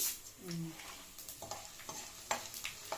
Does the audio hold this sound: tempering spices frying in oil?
yes